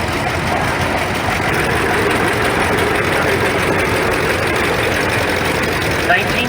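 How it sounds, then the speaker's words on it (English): A 1951 John Deere Model A tractor engine runs steadily at a parade, a continuous loud rumbling drone with broad noise throughout and no pauses. "1951 John Deere Model A, Ron Cade from Otsego,"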